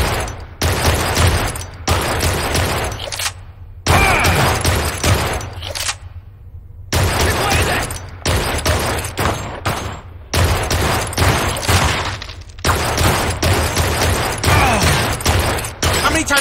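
Rapid bursts of gunfire from the Blue Estate video game, loud and close, in repeated volleys separated by short pauses.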